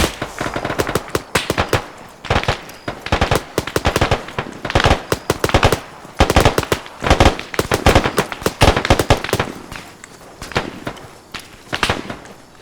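Heavy gunfire in an ANZAC military operation: rapid automatic bursts and single shots crackle loudly and almost nonstop, with short uneven gaps between volleys.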